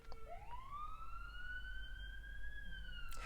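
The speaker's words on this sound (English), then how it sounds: "Oh, there's a siren." An emergency siren passes outside, a single rising wail that holds steady and then dips, faint and distant over a low background hum.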